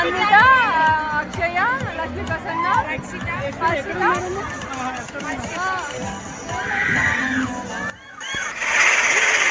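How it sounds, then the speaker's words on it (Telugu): Water sprays and splashes from the Wonder Splash train ride at the Wonderla amusement park. Excited crowd voices and shrieks fill most of the moment before a broad rushing splash of water near the end. "ఈ ట్రైన్ వచ్చిన తర్వాత ఇక్కడ వాటర్ ఎలా వెదజల్లుతుందో చూడండి"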